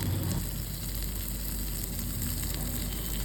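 Bheja fry, goat brain with masala, sizzling directly in a pan on the stove, a dense continuous close sizzle with a low steady hum beneath, no talking.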